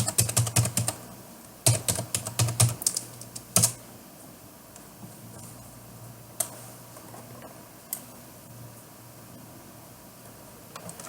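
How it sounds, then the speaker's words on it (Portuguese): An IP address being typed on a computer keyboard while setting up Samba file sharing: a quick close burst of keystrokes, a pause, then a few more clusters of keys and scattered single taps, with no voices. "Vamos digitar o IP da máquina."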